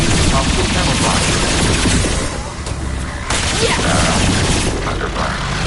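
Heavy, continuous Mass Effect 2 video game gunfire crackles loudly and closely, with one short lull midway before the dense shooting picks up again.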